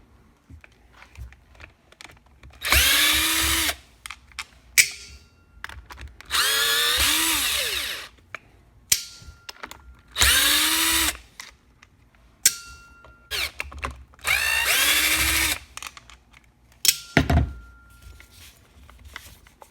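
Power driver backing out four Phillips head screws from a Griot's Garage 6-inch polisher, four separate whirring bursts of about a second each, with clicks and handling noises between them and no talking.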